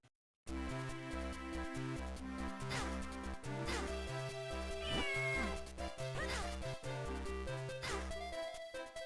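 A cat in a Zelda game meows repeatedly in short, sliding wavering cries over looping game music, each call rising then bending down, about five calls across the stretch.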